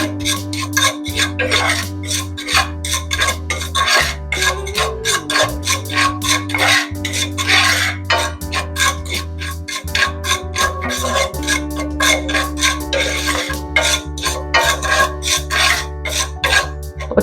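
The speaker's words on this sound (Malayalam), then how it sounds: "അതൊന്ന് നന്നായിട്ട് വറുത്തെടുക്കാം." Tea powder and sugar roasting in a pan, with steady rhythmic scraping and rasping of a spoon against the metal that continues throughout over a constant low electrical hum.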